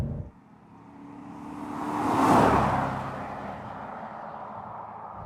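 A Maserati GranSport in sport mode with open exhaust valves passes by, its engine and exhaust note swelling to a loud rush and fading away, heard from outside without any talking.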